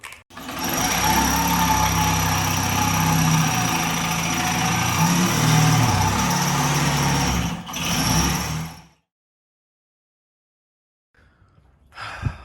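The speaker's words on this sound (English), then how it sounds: "So I'm about to drill holes in the brick walls here." A power drill grinds loudly into a brick wall for several seconds, pauses briefly, resumes, then stops, leaving silence and a faint rustle at the end.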